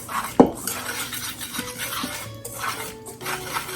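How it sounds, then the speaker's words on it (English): Whisk scraping and clinking in a mixing bowl of dry cookie ingredients, including baking soda and kosher salt, with a sharp metallic tap at the start, then a steady close rasping swish and no talking. "And we're going to whisk that together"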